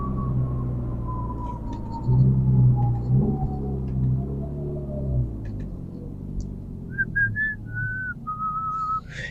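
A deep straight-piped Honda Civic exhaust rumble drones inside the car cabin, with a high whistling tone sliding slowly downward and a few short chirpy tones near the end.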